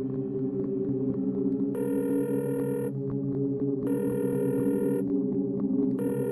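A telephone rings over a speakerphone in repeated bursts, its bright tonal ring starting and stopping at regular intervals over a steady, loud musical hum.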